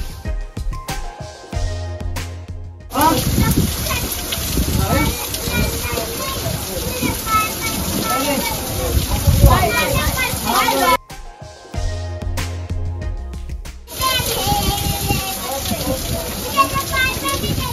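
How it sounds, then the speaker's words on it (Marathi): Steady heavy rain pours down close by outside a cave at Dhodap Fort, Nashik, a dense hiss with scattered drips, broken by brief quieter gaps and occasional distant voices. "गुहेत बसलो आणि खूप पाऊस येतोय"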